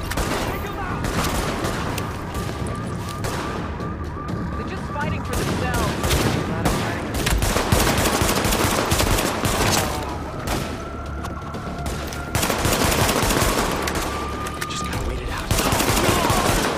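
Sustained heavy gunfire in The Division, dense overlapping automatic bursts and booming shots that run loud and continuous throughout, with a voice briefly speaking over the firefight.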